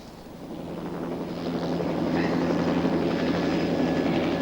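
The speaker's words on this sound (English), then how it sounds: "20 kilometres away, the chopper takes off to retrieve a man who has pulled the pin." A military chopper taking off: a rotor and engine roar builds steadily from moderate to loud and holds at a constant, close drone without talk.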